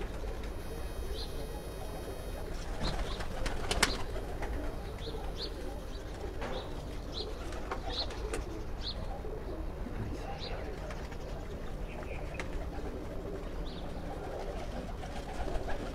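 Rooftop breeding pigeons in Nowshera Virkan, Punjab, coo repeatedly in soft, evenly spaced calls over a steady outdoor background, with occasional chirps and faint distant voices.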